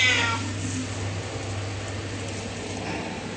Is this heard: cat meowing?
yes